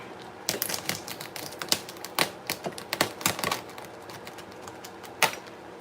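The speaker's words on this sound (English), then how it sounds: "Try to crack the shell a little bit." A thawed lobster's shell being cracked for a seafood stew, an uneven series of sharp close snaps and taps with short pauses, no voices.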